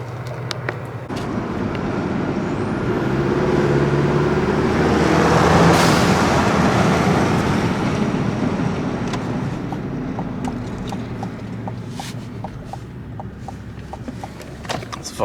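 A Chevy Colorado pickup with a modified 2.7 turbo engine and a blow-off valve drives along city streets, giving a steady, loud rumble of engine and road noise that swells near the middle, with faint clicks over it.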